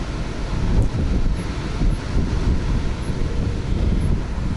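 Strong wind buffets the microphone outdoors in autumn, a loud, continuous low rumble with gusty swells and no speech.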